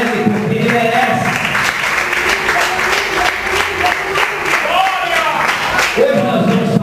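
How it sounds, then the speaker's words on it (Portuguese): A church congregation claps hands together in lively praise, dense rhythmic clapping loud and close throughout, mixed with cheering voices and calls rising over the crowd. "E quando puder aplaudir o nome do Senhor, aplauda o nome dele com as palmas, bem alegre"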